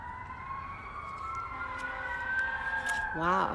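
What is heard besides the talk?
emergency vehicle sirens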